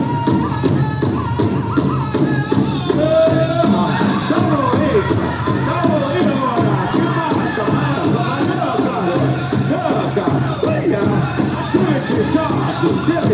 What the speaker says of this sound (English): let's give our our flag carriers a round of applause as they come in here